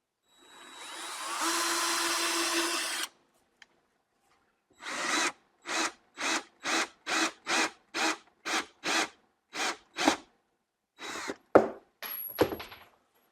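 A power drill bores into a plastic battery box for a trolling motor, first in one long grinding run, then in a series of short, evenly spaced bursts, close and clear.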